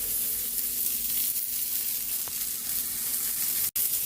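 Chicken hits a pan of sautéing garlic and onions, giving a steady, close, dense sizzle that holds for the whole stretch with only a brief dip near the end.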